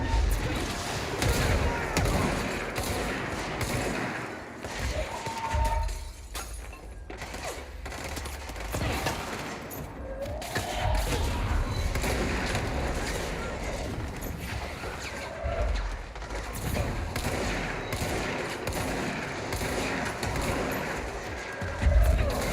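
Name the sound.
gunfire in Indiana Jones video game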